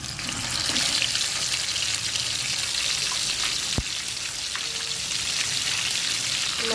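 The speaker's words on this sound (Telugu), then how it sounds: "ఇప్పుడు ఆయిల్లో మళ్ళీ డీప్ ఫ్రై చేసుకుందాం." Chicken pieces deep frying in hot oil in a home kitchen, a continuous loud hissing sizzle with crackling bursts and one sharp pop, steady and close with no talking.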